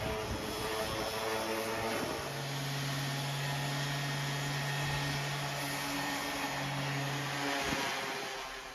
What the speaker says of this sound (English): I correct that with the sander